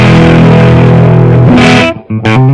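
Electric guitar played through a Marshall JCM800 2205 valve amp with the gain turned up, loud distorted sustained chords ringing out, then a brief gap and a couple of short stabbed chords.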